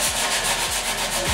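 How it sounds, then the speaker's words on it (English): Sandpaper rubbing dried glue off the edges of a wooden nightstand, with a close, loud, even scratchy hiss and a regular back-and-forth stroke about every half second. "I'm just gonna sand that down."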